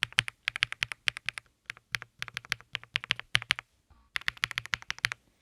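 A new computer keyboard clatters under quick bursts of typing. The keystrokes are crisp and close, fall in clustered runs broken by brief pauses, and play at a moderate volume with no talking.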